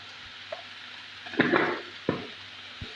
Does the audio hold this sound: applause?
no